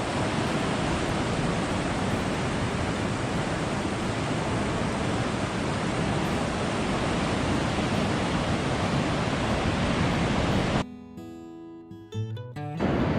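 Surf rolling onto a beach near Dunedin, New Zealand, at the Meraki Beach Boulders conservation reserve: a steady, full wash of breaking waves that ends abruptly near the close.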